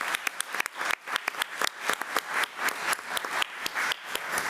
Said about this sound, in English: Let's give Kaylee Warren another round of applause.